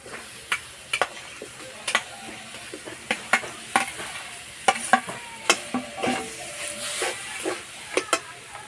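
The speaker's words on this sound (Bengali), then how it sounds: "হলুদ গুঁড়ো, অল্প একটু জল দেব। সিদ্ধ করে রাখা আলু দিয়ে দেব।" Boiled potatoes, turmeric and a little water go into a hot frying pan, producing a continuous sizzle broken by repeated sharp scraping and stirring strokes, loud and close.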